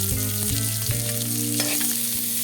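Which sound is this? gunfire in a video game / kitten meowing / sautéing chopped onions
sautéing chopped onions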